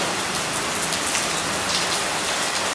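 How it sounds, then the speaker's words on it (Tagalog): Heavy rain pours down steadily and loudly on a moving day with six huskies, a dense, unbroken hiss of drops hitting surfaces close by, with no voices over it. "Ang lakas ng ulan."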